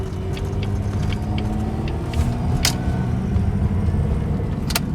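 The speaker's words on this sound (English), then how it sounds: "the car is actually moving underneath its own power for the first time" A 2003 Jaguar X-Type drives slowly under its own power, a steady engine and road rumble running throughout with a few light rattles and clicks, no voices.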